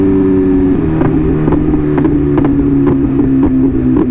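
A BMW M1000RR motorcycle idles with a loud, steady engine drone, broken by a series of sharp exhaust pops and crackles spread through the clip, with wind rumble and no talking.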